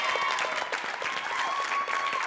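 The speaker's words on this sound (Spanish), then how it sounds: "Así que vamos a pedirle aplauso a Tauro." Studio audience applauding on a Spanish-language TV talent show, a dense, steady wash of many hands clapping close and loud throughout, with no speech over it.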